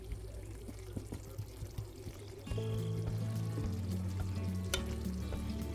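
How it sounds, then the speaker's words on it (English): Beef bites tipped into a pan of creamy garlic butter sauce bring a sudden swell of steady sizzling and bubbling partway through, after a quieter, gentler simmer at the start. "Now I'm just gonna add the beef bites and coat them into the creamy garlic sauce."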